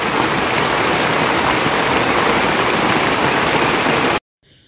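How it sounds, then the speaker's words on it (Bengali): Heavy rain pours down steadily in a loud, even wash of drops on surfaces for about four seconds before cutting off abruptly. "ভালোই জোরে বৃষ্টি পড়ছে।"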